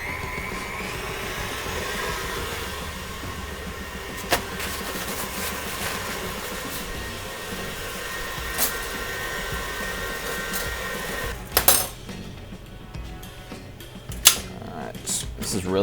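A stand mixer whirs steadily while beating vegan buttercream, a continuous motorized drone with occasional clinks and knocks near the end.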